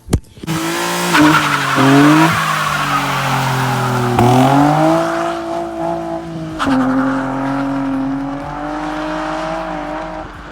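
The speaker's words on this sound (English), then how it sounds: "I'm gonna put in the video of me doing the standing burnout and the fuel cutting right now" A Nissan 350Z performs a standing burnout with fuel cutting: a loud, close engine roar starts abruptly, joined by sustained tire squeal that wavers in pitch and dips briefly before continuing.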